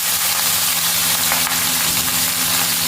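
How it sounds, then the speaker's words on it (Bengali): Sliced ridge gourd sizzles steadily in hot oil with cumin seeds in a pan, a dense, continuous frying hiss heard up close with no talking. "ভেজে নেব এপিট ওপিট করে।"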